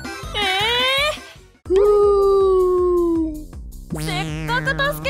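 A cartoon dog voiced in a Japanese LEGO City kids' animation gives a run of loud, close howls and whimpering yelps, with no talk in between.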